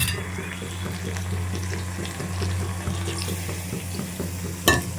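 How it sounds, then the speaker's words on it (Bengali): Spice-rinsing water poured from a bowl into a pan of simmering raw jackfruit curry, a steady splashing pour over a low sizzle and hum, ending in a sharp clink near five seconds. "সামান্য একটু মশলা ধোয়া জলটাও দিয়ে দিই"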